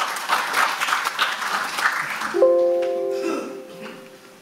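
Audience applause at a Korean policy forum on tidal power, steady clapping for about two seconds, then fading out as a short electronic chime or tone sounds and the room settles.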